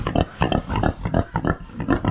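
Free-range pasture pigs grunting in quick rhythmic bursts, close and fairly loud, several short grunts in a row with no talking over them.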